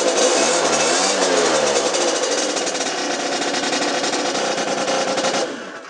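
A Peugeot Speedfight scooter, kept in a cold shed, kick-starts and its small engine catches immediately, settling into a loud, steady buzzing idle close by before cutting off abruptly near the end.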